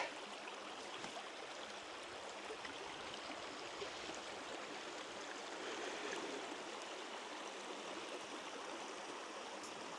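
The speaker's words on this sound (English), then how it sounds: "So this is your river." A river flows steadily along a walking route in the Peak District, a continuous broadband rush and babble of water that stays even and fairly loud throughout with no voices.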